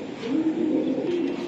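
A racing pigeon gives a soft, low cooing call, a single rolling phrase heard close up with no talk over it.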